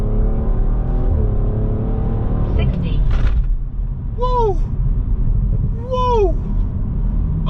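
A 2022 Audi RS4 making a hard launch start for a timed drag run, with a loud, steady low engine rumble throughout and two brief rising-falling tonal chirps over it.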